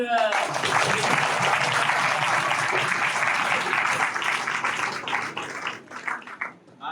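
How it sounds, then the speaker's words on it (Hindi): Applause from attendees at a fire safety seminar at an Indian institute, a dense burst of clapping that stays loud for several seconds, then thins out and fades with talking creeping in near the end. "आप भी तालियां बजाकर"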